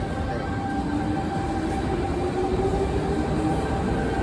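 A steady train rumble with a low whine, rolling along as it approaches the lower platforms of Town Hall station, constant and fairly close throughout.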